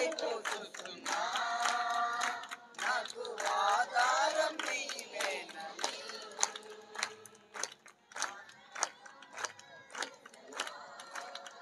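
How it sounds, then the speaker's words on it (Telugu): A Telugu Christian worship congregation claps along in a steady rhythm while voices sing the last verse of a song, sharp hand claps continuing throughout and standing out clearly over the singing. "చప్పట్లు చప్పట్లు చప్పట్లు"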